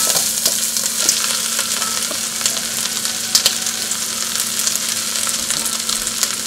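Cabbage sizzles and fries in olive oil in a pan, a steady close crackle with occasional louder pops and no voices.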